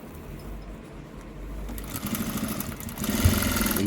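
A sewing machine stitches piping onto fabric, its steady motor hum building and quickening toward the end, running alone and close with no talk.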